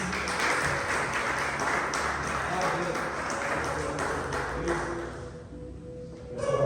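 A church congregation applauding during a communion service, a dense sustained wash of clapping mixed with a lingering tone and voices, thinning and fading before a brief swell at the end.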